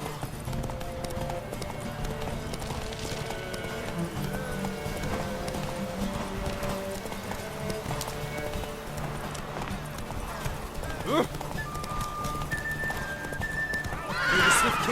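Hooves of the horse Roach in The Witcher 3 clop in a steady galloping rhythm, with a sharp whinny near the end, over game ambience and faint voices.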